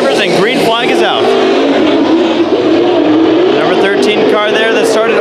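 Late model race cars roar loudly and continuously at the green-flag start of an eight-lap heat race at Bakersfield Speedway's Budweiser Nationals, engines revving and surging together while an announcer talks over them.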